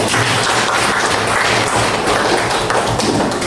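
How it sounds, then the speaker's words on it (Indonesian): A classroom of students claps together in a busy, continuous burst of applause, close and fairly loud, with no talking over it. "Tepuk tangan untuk kita semua"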